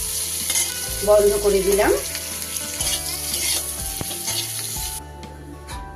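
Onion and capsicum stir-fried with chicken for chicken patiala, a steady sizzle with spoon scrapes and knocks over background music, a short spoken remark partway, and the hiss cutting off as the heat goes off.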